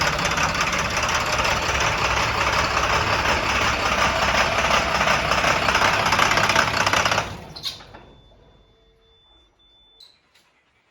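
A rebuilt International 466E diesel engine runs loud and steady close by, then suddenly dies, leaving near silence with a few faint clicks and rattles.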